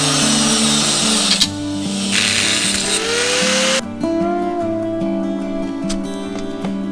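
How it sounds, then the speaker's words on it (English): Welding a short expanded pipe sleeve onto the outer plate of a scratch-built two-stroke muffler for a TS185 motorcycle, a steady buzzing arc sound that shifts in pitch partway through, close and loud with no talk. "then weld it to my outer plate right here"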